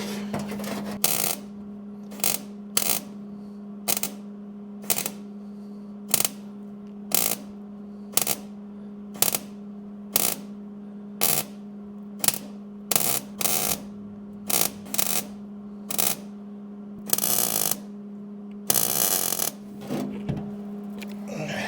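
Tack welding patch pieces into the floor pan of a dentside Ford truck: a steady electrical hum carries repeated short crackling bursts at irregular intervals, some longer welds near the end.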